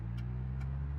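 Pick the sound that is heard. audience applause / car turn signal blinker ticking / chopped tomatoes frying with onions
car turn signal blinker ticking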